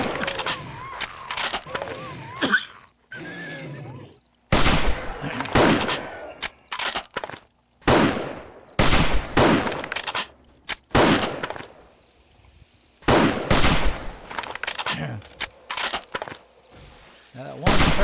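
Gunfire against zombies in the 7 Days to Die multiplayer game during a base defense: repeated loud, sharp bursts of shots spread across the scene, with people talking between them.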